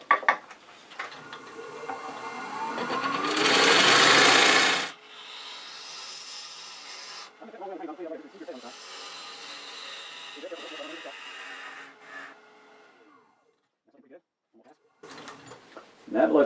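Wood lathe turning a tenon on a potpourri bowl blank cut from a tree with some rot, a loud steady cutting rasp near the start that stops abruptly, followed by quieter scraping passes with a voice talking between them.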